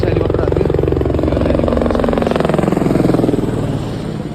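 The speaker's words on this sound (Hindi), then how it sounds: "सामने से जो बालटाल से हेलीकॉप्टर आती" A helicopter arriving from Baltal in the Kashmir mountains, its pulsing rotor chop loud, close and steady throughout, fading slightly at the end.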